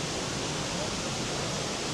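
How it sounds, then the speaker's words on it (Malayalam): A garden waterfall pours steadily, a dense, unbroken rush of falling water close by with no pauses. "വെള്ളച്ചാട്ടം, പക്ഷികൾ, പറവകൾ"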